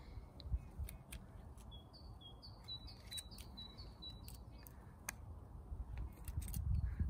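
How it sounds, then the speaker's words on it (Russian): Pruning shears snipping the tips of apricot and peach branches in a garden plot, a series of sharp, quiet clicks at irregular intervals, with birds chirping faintly in the background. "Вот, обрезаю все кончики."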